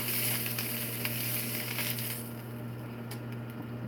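Steak sears in a hot pan with a steady, fairly quiet sizzle and hiss, with a few faint taps and a low hum underneath.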